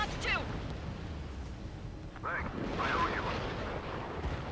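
A missile launches and detonates in the combat flight game Ace Combat 7, heard as a sustained roaring rumble with a swelling blast partway through, all under steady wind-like engine noise and a voice in game dialogue.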